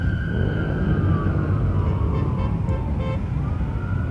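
Sirens from Essex and Clinton County Sheriff and state police vehicles wail over a low engine rumble as an Honor Flight escort procession in the North Country gets underway, loud and close, with the tone sweeping steadily.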